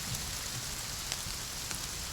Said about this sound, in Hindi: अच्छी बारिश हुई है।